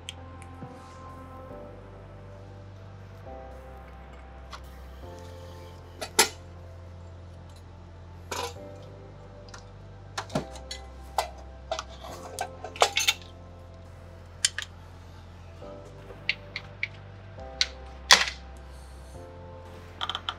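A wrench working on the last two bolts of the rear turbo on a BMW N54 335i engine gives sparse metallic clinks and ratchety taps at irregular intervals over a low steady hum.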